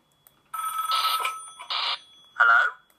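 A ringing phone in the video game Five Nights At Wario's 2, heard as three close electronic ringtone bursts in quick succession with short gaps between them, set against near silence.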